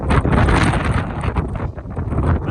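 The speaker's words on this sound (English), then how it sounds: "But it's windy." Strong wind buffets the microphone outdoors by a hotshot truck and trailer, a loud continuous roar and rumble that surges and eases throughout.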